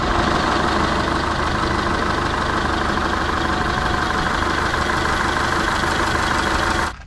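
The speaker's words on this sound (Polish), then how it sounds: "jak silnik pracuje" A Peugeot 207 1.4 16V petrol engine idling on fresh spark plugs, a steady even hum with a regular fine pulse, close and loud, running alone until it cuts off abruptly at the end.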